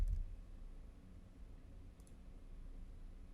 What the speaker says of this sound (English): Clicking anywhere outside of the text box places this text.